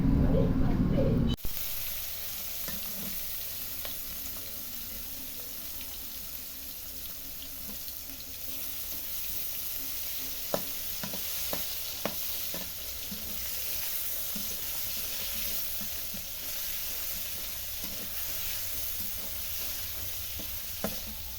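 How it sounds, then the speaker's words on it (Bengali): Shrimp frying with salt and turmeric give a steady, close sizzle that holds for the whole stretch, broken by scattered small pops and clicks after a sharper start. "চিংড়ি মাছগুলো লবণ হলুদ দিয়ে ভেজে নিচ্ছি"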